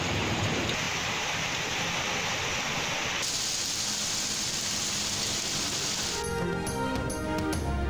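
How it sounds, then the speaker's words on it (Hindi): Heavy downpour across Islamabad and Punjab cities, a dense steady hiss of rain on surfaces that changes character partway through and ends with spattering, clattering drops, with no talk over it. "इस्लामाबाद और पंजाब के मुख्तलिफ शहरों में मूसलाधार बारिश।"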